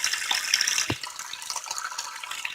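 Hot running water pours into a container, a steady rushing splash with a brief dip partway through, close and fairly loud with no voices.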